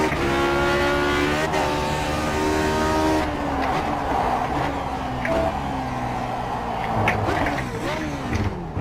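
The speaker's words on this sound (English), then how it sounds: "That was a big misshift. I was really afraid of blowing the engine there." A Lotus 49 race car in the iRacing simulator screams as its engine over-revs after a missed shift, a loud high whine that holds and then drops in pitch as revs fall, with faint talk underneath.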